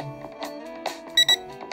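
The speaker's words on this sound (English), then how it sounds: "medium, which is 2 beeps," Two short, loud electronic beeps from a drone signal medium speed, standing out clearly over a steady background hum with faint noise around them.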